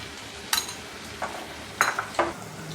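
Whisked curd is stirred into onions frying in a pan for a drumstick curry, soft background sizzle broken by a few sharp spoon scrapes and clinks against the pan.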